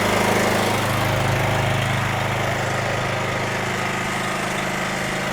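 A gas-powered NorthStar wet steam and hot water pressure washer's engine runs at a steady, loud drone, a constant mechanical rumble close by without pauses or speech.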